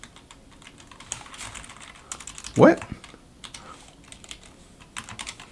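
Rapid clicking of computer keyboard keys in an uneven rhythm, close and fairly quiet, with a short spoken interjection in the middle.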